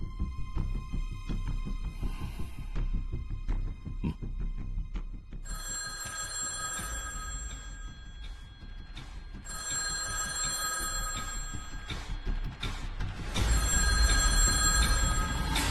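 A telephone bell rings in repeated bursts with short pauses between them, loud and close, over a low background hum.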